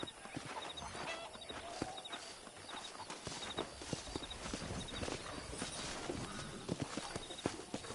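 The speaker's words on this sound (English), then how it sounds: "That ranch hand said there's a pack of wild horses nearby." Wild horses' hooves clip-clop steadily through the Red Dead Redemption remaster on PS5, with a continuous busy rhythm of hoofbeats over an outdoor game ambience and occasional faint whinnies.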